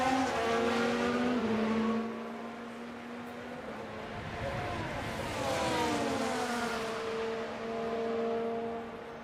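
Race-car engines in the F1 Manager video game, set at Miami, whine in layered tones that climb and fall as cars close in and pass. The loud, continuous engine drone has no talk over it.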